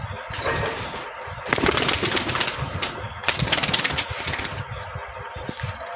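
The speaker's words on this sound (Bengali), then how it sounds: "দেখুন পায়রাগুলো।" Pigeons in a cage cooing and rustling, a dense, continuous murmur of low calls with occasional wing flutters, fairly close.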